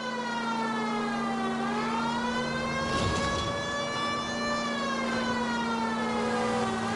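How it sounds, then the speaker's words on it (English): A wailing police car siren from the video game L.A. Noire, rising and falling steadily in pitch under a constant engine drone during a car pursuit of a stolen green Kaiser Frazer, loud and close. "Y'all not hear my sirens?"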